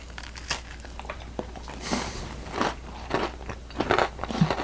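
Crunchy bites into a strawberry-pecan shortbread bar, several crisp crunches with chewing between them, close up and fairly quiet, no talking.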